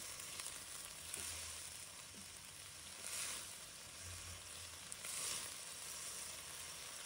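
Broccoli stir-fries in a wok with a steady, soft sizzle of water and oil, with occasional faint scraping from stirring.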